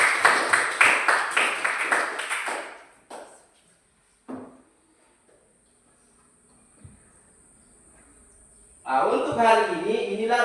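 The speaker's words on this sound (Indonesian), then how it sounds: "kita berikan aplaus untuk teman kita" Students in a junior high school classroom clap for a classmate, a dense burst of applause lasting a couple of seconds before fading into quiet room tone, with voices returning near the end.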